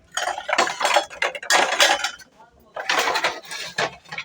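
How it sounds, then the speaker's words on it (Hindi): Washed dishes, plates and utensils are stacked away in a kitchen, giving repeated bright clinks and clatters in bursts that are close and fairly loud, with a short pause in the middle and a voice faintly underneath. "अब मैं ना सारे बर्तन इसमें रख देती हूँ।"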